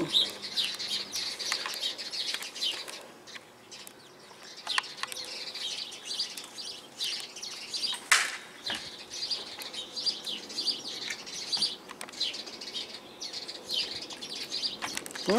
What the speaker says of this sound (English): Them birds, what they fighting?